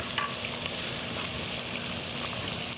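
Green onion bottoms sauté in a pan for jambalaya, giving a steady, fairly soft sizzle and crackle with faint stirring and no talking.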